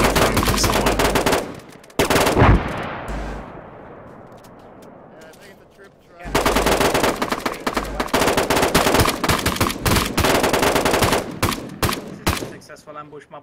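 Video game gunfire crackles in loud, dense automatic bursts, with a long echoing tail between volleys and heavy sustained firing resuming, while voices talk underneath.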